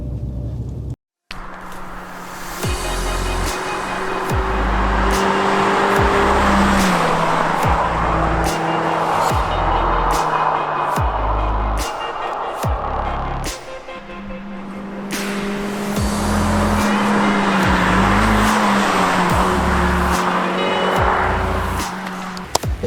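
A Renault Clio 3 RS F1 Team hatchback driven hard, its engine droning and rising through long pulls with gear changes and road and wind roar from inside the car. It is loud and sustained, with no talk.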